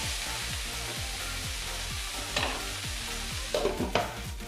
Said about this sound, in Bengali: এই তেলের মধ্যে আমি দিয়ে দেব কেটে রাখা ফুলকপি